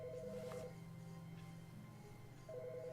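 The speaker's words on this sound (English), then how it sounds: "There's a phone ringing." Telephone ringing in the video game The Stanley Parable Ultra Deluxe, a faint electronic two-tone trill repeating in short bursts over a low steady hum, with no voices.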